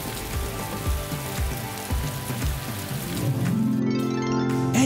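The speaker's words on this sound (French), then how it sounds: "la pluie commencera." Rain falls in a steady patter of drops, with some louder splashes early on and a swelling wash of sound toward the end.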